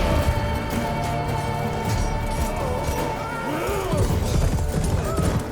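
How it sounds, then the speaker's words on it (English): Horse hooves and a neigh in the video game The Witcher 3, heard as clopping steps under a busy game soundscape with crashes and rain-like noise, and a short whinny toward the end. "That's a horse."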